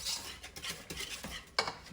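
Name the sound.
stirring chocolate fudge mixture in a pan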